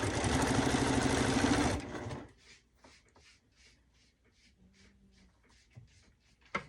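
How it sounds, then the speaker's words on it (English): A sewing machine stitches straight across quilt seams in a dense, steady whir that stops after about two seconds, followed by quiet handling and faint fabric shuffling. "So we're going to sew across here."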